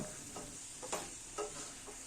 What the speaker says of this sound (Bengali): এবারে দিলাম ভেজে রাখা আলু এবং সোয়াবিন এটা দিয়ে ভালো করে কষাব